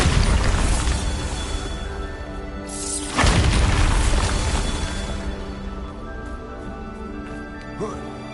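A Bombarda spell blast in Hogwarts Legacy hits with a loud, close boom around the midpoint, followed by crumbling debris and a lingering rumble.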